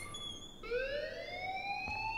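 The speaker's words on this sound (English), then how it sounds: "please turn off that alarm" Inside the Life is Strange video game, a fire alarm wails with a rising electronic tone that kicks in sharply and sustains loudly over low room noise, no speech.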